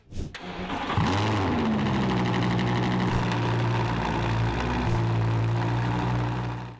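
A powerful Audi V10 engine cranks and fires, then settles into a loud, steady idle with a deep, throbbing rumble.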